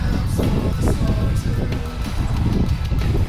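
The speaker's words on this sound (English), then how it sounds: "Holy cow, it's windy." Strong wind roars and buffets the microphone without letup, a heavy low rumble filling the whole moment.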